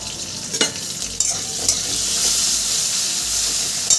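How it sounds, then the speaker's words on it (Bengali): Potato pieces seasoned with a little salt and turmeric frying in a pan, giving a steady close sizzle with scattered crackles and a few stirring clatters, with no talk. "আলুটা আমি একটু ভেজে নেব"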